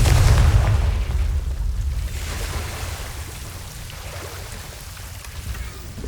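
A Confringo fire blast spell explodes in Hogwarts Legacy, a heavy low boom at the start that rolls off into a crackling, rain-like rumble and slowly fades.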